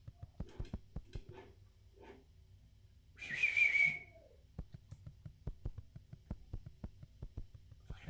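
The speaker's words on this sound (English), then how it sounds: "How does the whistling actually work?" A sharp whistle rings out once for about a second in the hunting video game Huntsman, amid sparse clicks and faint low background tones.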